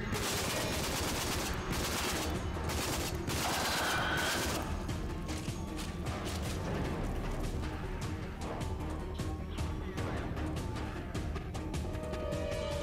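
Rapid gunfire rattles through a firefight in the video game Rage, dense bursts of automatic shots and sharp cracks, loud and close, running continuously with no talking.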